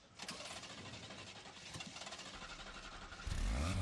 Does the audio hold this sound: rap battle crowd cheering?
no